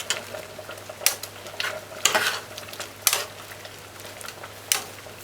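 Butter being gently stirred into a chicken foot stew with peas in a pot, heard as several distinct spoon scrapes and clinks about a second apart over a soft simmering hiss, with no voices.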